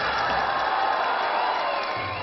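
A studio audience at a Shanghai Dragon TV Lantern Festival gala cheers and whoops at three judges, a sustained roar of crowd noise with scattered shouts running steadily throughout.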